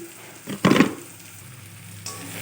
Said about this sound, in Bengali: সবগুলো মিশ্রণকে খুব ভালোভাবে ভেজে নিতে হবে।